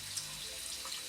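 Tap water runs in a steady, faint hiss and splash into a sink while a makeup spoolie brush is rinsed of soap, with no voices.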